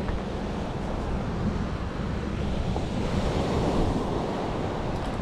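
Strong wind buffets a seashore during shore casting in Batangas City, a steady roaring rush with surf and wind noise hitting the microphone throughout, loud and continuous with no talk.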